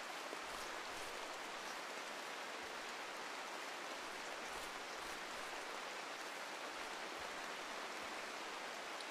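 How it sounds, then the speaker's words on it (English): Steady rain in a colony-building video game, a constant soft hiss of falling drops with faint low patter, even and unbroken throughout with no talking. "It's been raining for a bit."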